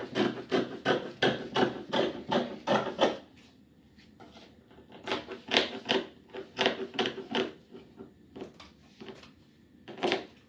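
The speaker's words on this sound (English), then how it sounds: "And I'll cut out my back facing." Scissors cutting out a fabric back facing for a dress, freehand, a rapid run of crisp snips in two bursts with a pause between, close and fairly quiet, no talking.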